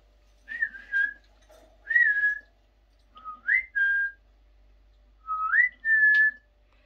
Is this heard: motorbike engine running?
no